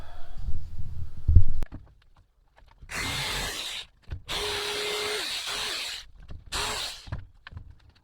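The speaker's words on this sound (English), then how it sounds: "Take my jigsaw and clean that edge up." A jigsaw cutting wood to clean up the edge of a portable work area build, three loud buzzing bursts of a few seconds each separated by short pauses, after some clattering handling of the tool.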